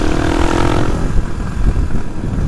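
Suzuki DR250S motorcycle fitted with a Dominator R aftermarket exhaust, idling and blipping with a loud, rough, throbbing exhaust note, close and steady with no talk.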